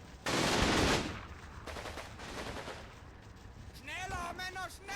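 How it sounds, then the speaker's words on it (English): Infantry small-arms fire crackles in Combat Mission, a loud burst up front followed by lighter scattered shots fading into the background as a voice speaks near the end. "Freeburg's men continue to fire on the Polish section at the western forest edge"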